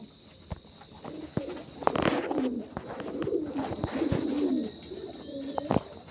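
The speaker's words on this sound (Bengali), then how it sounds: "এই আমার নর পায়রা।" Soft, repeated cooing from a male racing pigeon rises and falls over several seconds, close by, with a few sharp clicks and knocks mixed in.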